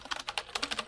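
Rapid keystrokes on a computer keyboard, close and clear, about a dozen clicks in quick uneven rhythm with no talking.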